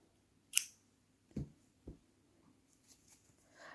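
Scissors snipping crochet yarn while finishing a crochet jacket, a few quiet distinct cuts with short pauses between, close and isolated in a quiet room.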